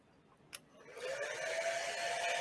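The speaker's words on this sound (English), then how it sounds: "I'm going to take a hair dryer to this real quick." A hair dryer switches on and blows steadily, drying glue on foam cosplay armor; its airy whoosh with a faint whine starts after a short click and continues to the end at moderate loudness.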